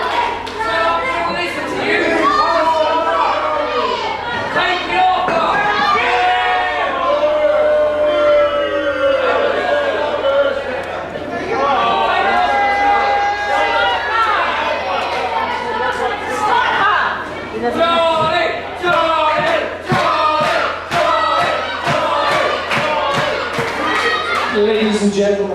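A lively crowd at a DOA UK wrestling show in Great Yarmouth chatters and shouts continuously, with excited children's voices and scattered jeers, and bursts of clapping near the end.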